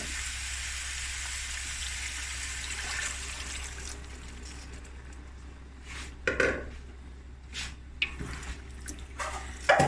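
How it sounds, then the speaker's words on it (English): Hot water pours steadily into a cooking pot for lamb akhni with a rushing, splashy hiss, followed by a few sharp clinks and knocks of cookware. "add my water, my hot water"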